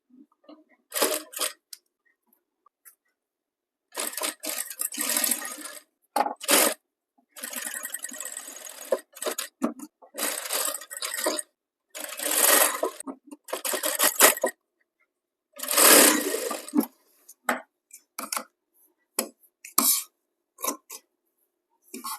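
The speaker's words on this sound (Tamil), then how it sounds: "இப்படி மடிச்சுட்டு இப்படி வச்சு தைக்க போகிறேன்" A sewing machine stitches a blouse sleeve in short and longer bursts of fast mechanical whirring, separated by silent pauses, loud and close.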